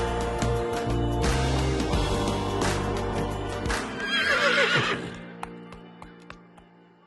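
Horses at a riding school whinny loudly and at length near the listener, followed by a series of sharp clip-clopping hoof strikes on a hard surface as the neighing fades.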